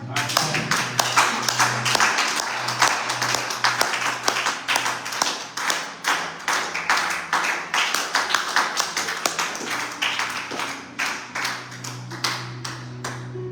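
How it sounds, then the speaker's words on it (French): Church congregation claps together in praise, a dense, fast stream of close hand claps over a sustained low hum, lasting well over ten seconds without pause. "On peut applaudir le Seigneur"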